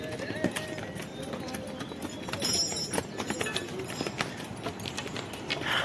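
Horse hooves clip-clopping on a mountain trek trail toward Ghangharia base camp in the Valley of Flowers, a close, irregular string of hard knocks with people talking over it.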